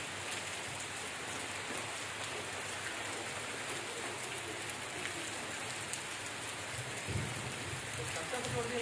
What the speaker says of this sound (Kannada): ಏನ್ರಿ ಮಳೆ ಬರ್ತಾ ಇದೆ